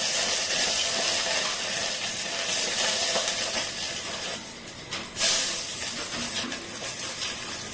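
Curry leaves drop into a hot pan, setting off a loud hissing, steamy sizzle that flares sharply midway and then settles into a steady fry.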